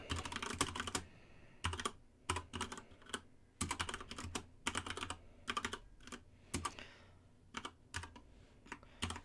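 Rapid clacking keystrokes on a computer keyboard while entering a database column title, irregular bursts of taps with short pauses, close and clear, no talking.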